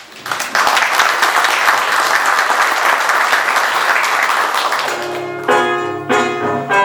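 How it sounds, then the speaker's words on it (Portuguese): Audience applause at a Brazilian Academy of Philology award ceremony: loud, dense clapping from a full room that holds steady for several seconds, then fades as choir singing with accompaniment begins over it. "Uma salva de palmas."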